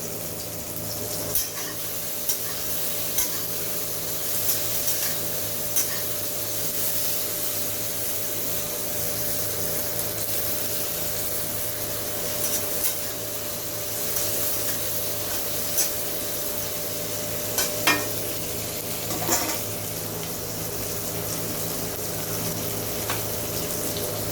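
Tomatoes frying in a pan with four or five green chillies and a few cashews, a steady hissing sizzle running throughout with occasional soft clinks, and no talking.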